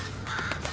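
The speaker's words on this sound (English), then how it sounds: "Almost got scared by a bird." A single crow caw in an animated horror game scene, short and fairly faint, heard alone without talk over it.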